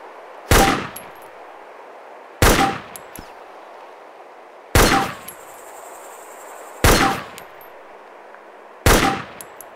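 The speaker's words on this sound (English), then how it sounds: "So let me get a few shots on the moving target first." Five bolt-action rifle shots in the video game DayZ fired at a moving target, each a loud sharp crack with a short ringing tail, spaced about two seconds apart with a quiet lull and bolt clatter between them.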